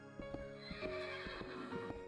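A horse in the Minecraft Infdev+ game neighs and whinnies repeatedly, with clip-clop hoof steps under the calls; close and fairly loud, no talk.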